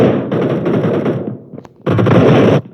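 Rapid automatic gunfire in a video game, loud and dense, two long bursts separated by a short lull with a few scattered shots.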